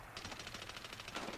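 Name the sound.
gunfire in the video game Medal of Honor Warfighter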